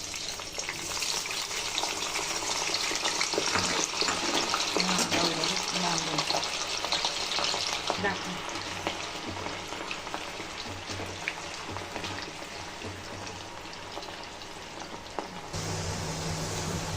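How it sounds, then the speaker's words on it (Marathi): Cut potatoes frying in a wok, a dense rain-like crackle of oil that runs continuously and close, with scattered stirring scrapes and a slight drop in level near the end. "ते बटाटे आपल्याला फ्राय करायचे."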